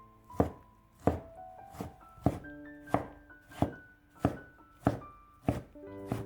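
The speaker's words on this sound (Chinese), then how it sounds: "最后改刀切成小丁。" A knife dices winter melon into small cubes on a cutting board, with nine or ten evenly spaced, fairly loud chops landing about every two-thirds of a second and no talking.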